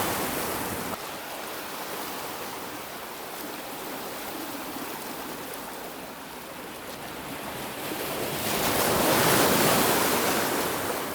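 Sea waves at a Mumbai handline fishing spot wash and roar continuously, swelling louder near the end as the rising tide rolls surf in, with some wind noise.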